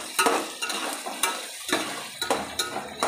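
Carrots, green chillies, beans and peas are stir-fried for egg fried rice, with repeated rhythmic scrapes and clatters of a spatula in the pan over a soft frying sizzle, close up and without talk.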